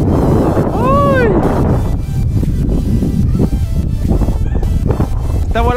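Strong wind roars and buffets the microphone outdoors while a Trainstar Mini three-channel RC plane flies, its motor whining in a rising and falling sweep early on, with a voice talking over the gusts.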